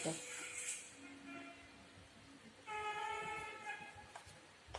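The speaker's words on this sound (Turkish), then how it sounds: "Tren." A train in the video game Poppy Playtime Chapter 2 sounds its horn in two tonal blasts over a low rumbling background, with players talking around it.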